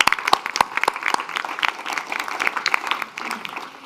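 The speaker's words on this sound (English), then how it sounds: "A big applause for Benjamin." Audience applause for a panel speaker at a youth dialogue session on adaptation action, a moderately sized crowd clapping steadily with some sharper individual claps standing out, tapering slightly toward the end.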